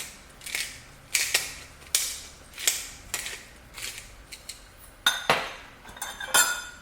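A spoon scrapes and clinks against a pot while stirring borscht, a series of irregular metallic taps and scrapes roughly every half second, close and fairly loud with no talk.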